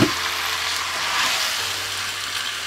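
Chicken pieces are added to sautéed tomatoes in a pan for a South Indian chicken dish, setting off a loud, continuous close-up sizzle with a low steady hum beneath it. No one speaks.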